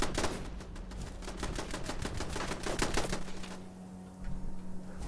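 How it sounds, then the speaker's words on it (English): Automated turrets fire in a video game in rapid, steady bursts of sharp mechanical shots over a low hum. The firing is loud and close, briefly stops near the end, then resumes. "I love watching the turrets do their thing."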